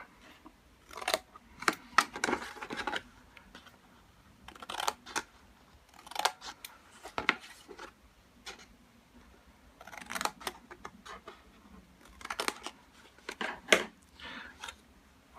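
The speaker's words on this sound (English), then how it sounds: "cut down one of these folds, and then just cut a short nick out to make the tab easier to fold." Scissors snip along the folds of a cardboard box and cut a small nick, giving bursts of crisp crunching cuts in irregular clusters, close and fairly quiet with short pauses between strokes.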